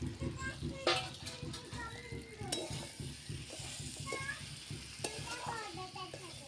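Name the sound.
fish head added to spice paste, sizzling in pan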